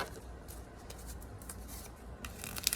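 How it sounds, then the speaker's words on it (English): Quiet riffling and soft slapping of tarot cards being shuffled, a light papery patter that ends in a few sharper snaps. "Let me do one more shuffle"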